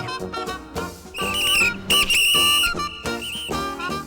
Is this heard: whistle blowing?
yes